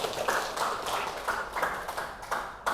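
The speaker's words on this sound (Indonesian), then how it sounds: "Oke, tepuk tangan." Rhythmic group clapping in a classroom, several bursts of hands striking in unison at a steady beat, moderately loud in a reverberant room.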